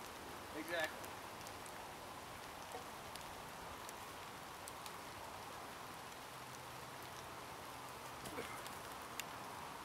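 Steady rain falls on an outdoor disc golf course, a constant broadband hiss under occasional faint voices, with a few brief louder taps and knocks from nearby.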